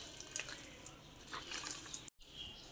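Water poured into thick batter for punugulu, a faint, irregular trickle and splash with small drips, quiet and close, briefly cutting out near the end.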